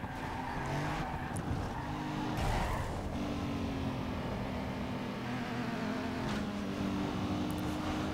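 A Toyota Supra racing in Need for Speed Underground 2, its engine droning steadily at high revs with shifting pitch, a few sharp transient bursts and a tire-noise edge, loud and continuous with no talking.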